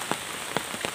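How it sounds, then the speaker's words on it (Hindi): Heavy rain falls steadily in a village setting, a dense hiss with a few louder drops pattering on a nearby surface at irregular intervals, close and unbroken. "बारिश बहुत हो रही है"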